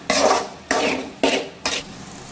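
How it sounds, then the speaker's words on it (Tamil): Masala spices for a crab curry are stirred in a pan: four separate scraping strokes, each a short burst of rough friction, close and fairly loud with brief pauses between. "மசாலா பொருட்கள் பச்சை வாசனை போகிற வரைக்கும் நல்லா கிளறி விட்டு கிண்டிக்கலாம்."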